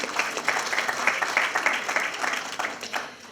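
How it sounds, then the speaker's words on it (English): A small seated audience at an artist talk applauds, a dense steady patter of many hands clapping at close to moderate distance, continuing without a pause and fading slightly toward the end. "Give yourselves a round of applause"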